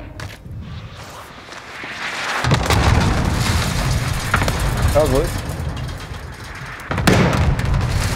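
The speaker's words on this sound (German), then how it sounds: "Freigabe für Luftschlag." Heavy booming airstrike explosions in Warzone hit one after another, loud and close, with a brief shouted reply and chatter mixed in.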